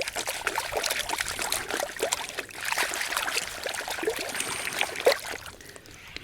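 Gravel is swirled and washed in a gold pan in water in Missouri, producing a continuous close trickling and sloshing with gritty scraping of stones.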